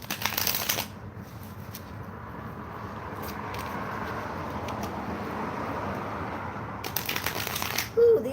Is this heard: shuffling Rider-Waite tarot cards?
yes